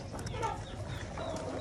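Chickens and a rooster cluck softly while feeding, with short close murmuring calls over a low background and a brief voice-like hum.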